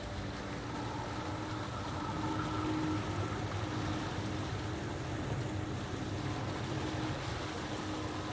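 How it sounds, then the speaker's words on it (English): A waterfall in the sci-fi game Mass Effect: Andromeda: a steady, broad rush of falling water that holds at an even level throughout, continuous and close, with no voices. "Is it through this waterfall?"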